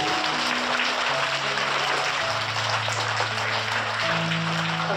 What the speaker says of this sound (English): let's give a big round of applause to Ma'am Simi and Ukg B children